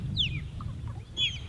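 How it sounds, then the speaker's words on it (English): Birds call twice near a kayak on windy open water, two brief high descending cries over steady low wind rumble. "and a whole bunch of other birds"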